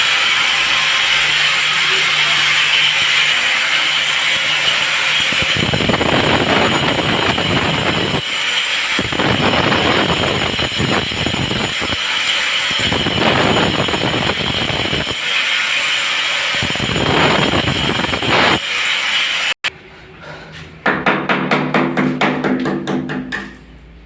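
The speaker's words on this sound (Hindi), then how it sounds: "ये अब हम ग्राइंडर चलाएंगे, ग्राइंडर से चला के इस जगह को काटेंगे" Angle grinder cutting through bathroom wall tiles, loud harsh grinding in several bursts with short pauses between them, then a brief rattling, clattering passage at the end, no speech.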